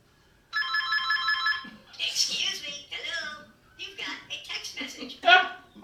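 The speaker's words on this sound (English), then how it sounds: "you've got a text message" A phone alert goes off during a Ward 6 school committee discussion, giving a bright electronic ring for about a second before people talk over the room.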